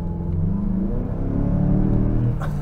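A 2024 Mazda CX-5 with the 2.5-litre turbo engine revs with a steady, smooth mid-range hum that rises slightly in pitch, heard close up from inside the cabin without anyone talking.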